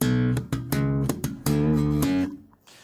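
Thumbed bass guitar notes from a song, played alone in a short phrase of several punchy, sustained slapped notes with clear gaps between them, the last note fading out.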